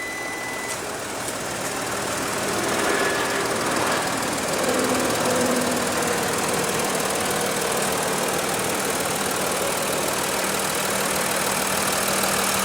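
A 2016 Audi A6 3.0 L turbo diesel V6 idles with a steady, knocking diesel rumble, loud and close, growing slightly louder after a couple of seconds and then holding even.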